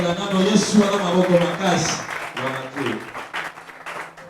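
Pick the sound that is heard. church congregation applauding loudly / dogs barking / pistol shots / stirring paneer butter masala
church congregation applauding loudly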